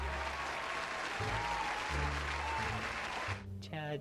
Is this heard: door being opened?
no